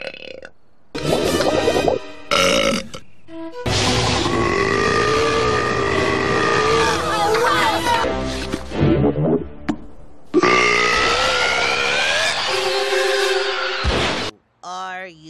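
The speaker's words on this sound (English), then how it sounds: "That was my celebration burp." A female animated character lets out several long, loud, drawn-out burps with a rising and falling pitch, one after another with only short gaps between them.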